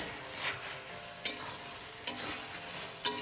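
Coriander leaves are stirred into spinach cooking in a pan over a soft sizzle, with three clear spoon clinks against the pan spaced about a second apart.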